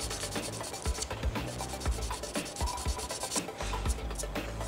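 Steady rasping strokes of sandpaper or a file working the plastic body of an Aoshima Lamborghini Aventador model kit, heard close and quiet in a continuous rubbing rhythm.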